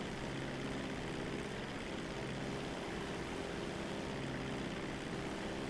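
A flying vehicle's aircraft engine in GTA Online drones loudly and steadily, a constant propeller-like roar without breaks and with no talking.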